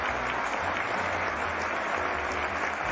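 Dense, continuous applause from a crowd, a steady, loud wash of clapping that fills the whole stretch without a break.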